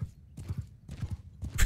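Horse archers galloping in Mount and Blade 2 Bannerlord, with rapid rhythmic hoofbeat thuds in bursts and a brief whinny-like flare at the end, fairly close and loud with no talk over it.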